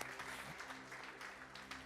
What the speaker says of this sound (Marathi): आपण प्रभूला टाळ्या वाजून धन्यवाद देऊया.